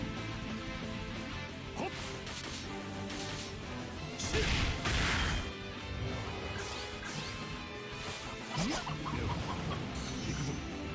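Chickens clucking in a video game, repeated squawks and a flapping burst mixed into a busy, continuous game soundtrack of effects and music.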